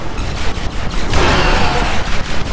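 Loud gunfire erupts in a Command & Conquer: Kane's Wrath battle, rapid overlapping bursts and a heavier blast swelling midway, dense and close with no clear voices.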